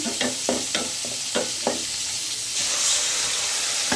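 Onion frying in hot oil for a tilapia curry with okra and turnip, giving a loud continuous sizzle with a few sharp clinks and scrapes of stirring early on, then a rushing hiss.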